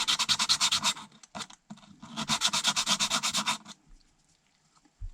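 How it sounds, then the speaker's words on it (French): Sanding wooden 3D puzzle pieces by hand: two runs of quick rhythmic back-and-forth rasping strokes, close and crisp, separated by a brief pause and a few light knocks, then fading to near silence. "Penser à les poncer un peu"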